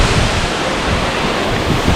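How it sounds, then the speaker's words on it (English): A waterfall throws a steady spray of clear water, rendered as a constant, loud broadband rush with a low rumble, dense and unbroken from start to finish with no voices. "This waterfall here is giving such a nice spray of water"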